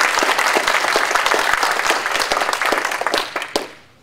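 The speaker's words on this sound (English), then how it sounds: "So we don't forget, can you please give Alana a big applause" Conference session audience applauding, dense loud clapping from a room full of people that holds steady and then tapers off and dies away near the end.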